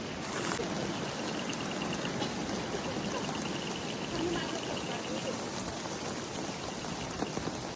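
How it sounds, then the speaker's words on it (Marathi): Water pours steadily from a cow-mouth spout at Gomukh tank on Raireshwar Fort in a continuous, splashing rush, loud and close, with no pauses throughout. "गाईच्या मुखातनं पाणी येतं आहे"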